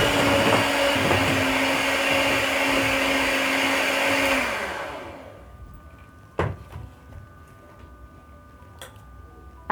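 An electric mixer whirs loudly and steadily through chocolate loaf cake batter with buttermilk for about four seconds, then switches off, leaving a couple of sharp clicks and knocks in quiet.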